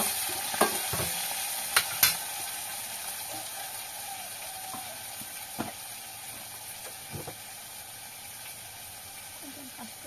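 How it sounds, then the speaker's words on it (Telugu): Brinjal curry with tomato pieces being sautéed in a pan, with soft sizzling under a few sharp clinks and scrapes of a spoon stirring near the start, then quieter frying. "మెత్తగా అయిపోయిన తర్వాత టమాటా ముక్కలు కూడా వేసి"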